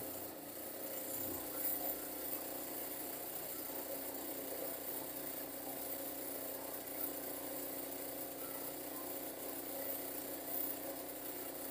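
A sewing machine running a straight line of stitching across a pajama waistband, producing a steady, even mechanical whir that continues throughout at moderate volume.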